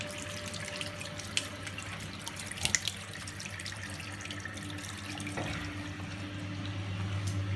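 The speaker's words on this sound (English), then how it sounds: "so it's draining out the water." Water draining from a Miele G 560 dishwasher after its pre-wash, a steady close-up gush and trickle with a constant low hum from the machine, a few faint clicks and splashes partway through.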